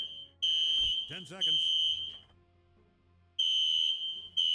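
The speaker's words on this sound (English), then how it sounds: "my fire alarm is going off" A home fire alarm beeps in long, loud, piercing tones, sounding twice with a gap between, while a person speaks over the middle stretch.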